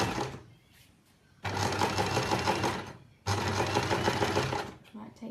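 A sewing machine stitches fabric in two loud, steady bursts separated by short pauses, close up, with faint talking in the quieter gaps.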